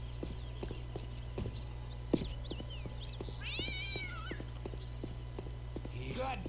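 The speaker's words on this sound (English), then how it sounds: "Goddamn cat!" In a video game, a cat lets out one drawn-out meow that rises and falls, over steady, regular clopping steps and a low hum, and a shorter cry follows near the end.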